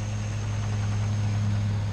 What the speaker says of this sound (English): I'm going to try the Traxxas TRX4 on its first run outside.